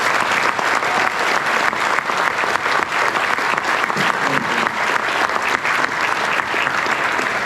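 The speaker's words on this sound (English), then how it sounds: "Please give everyone a round of applause." Sustained applause from a large audience at a family farming event, dense steady clapping filling the whole stretch, fairly close and loud with faint crowd murmur underneath.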